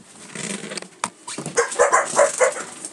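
A dog barks and yips close by in a series of short, sharp barks with whimper-like tones, alone with no talking.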